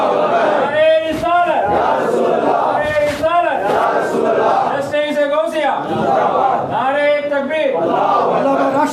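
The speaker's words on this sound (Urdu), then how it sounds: "ایک مرتبہ صاحب بلند آواز سے نعرے لگا دیے" A large crowd loudly chants religious slogans in unison at a religious gathering, in repeated rhythmic bursts of massed voices with brief pauses between calls.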